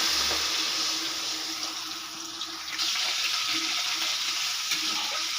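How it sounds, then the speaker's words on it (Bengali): Water poured into a pan of frying potatoes for a fish curry bursts into a loud hissing sizzle and splashing, close and continuous, easing slightly midway before surging again, with no talk. "কষানো হয়ে গেছে, এবারে আমি দিয়ে দেব জল।"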